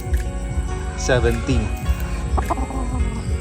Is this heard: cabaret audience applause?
no